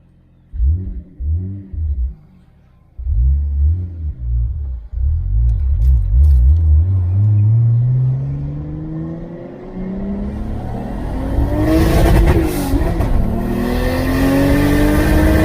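A car with a Toyota 2JZ-GTE engine on a wet road: a few short revs, then a long pull as the engine climbs in pitch and roars, ending in loud, rough high-rpm rumble with a whooshing rush.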